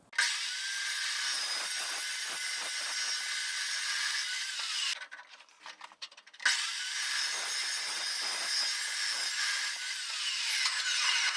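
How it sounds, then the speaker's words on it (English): A saw cuts through metal round stock for a wire feed welder setup, producing a steady raspy grinding stroke that runs continuously, pauses briefly midway, then resumes close and fairly loud. "So I'll have to cut it square, and then cut a section out of it square, and then slice it both sides."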